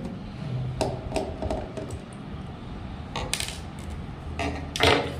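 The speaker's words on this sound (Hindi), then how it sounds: "तो ये मैं इसके 2 स्क्रू निकाल लेता हूँ।" Small metallic clicks and taps sound as two screws are removed from a laser printer's fuser cover, with a sharper clatter near the end, close up and fairly quiet.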